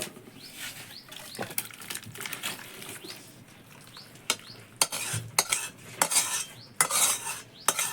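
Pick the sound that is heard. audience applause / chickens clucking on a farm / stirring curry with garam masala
stirring curry with garam masala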